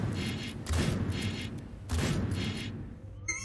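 Gunfire in a Dreams PS4 game, two bursts of rapid shots with heavy low thumps roughly a second apart, loud and close, with a brief pause between them.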